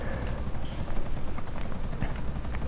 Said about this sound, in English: I don't know if there's any room for the helicopter, though, to land up here